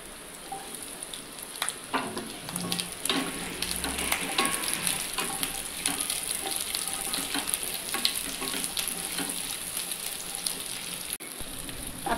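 Chopped onions and three bell peppers frying in a pan: a dense, continuous close sizzle like light rain, with occasional stirring scrapes and no talk.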